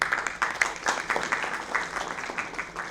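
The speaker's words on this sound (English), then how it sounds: "Let's have a big round of applause for the sir." An audience at an academic session breaks into steady, moderate applause, a continuous patter of many hands heard from a short distance in a hall.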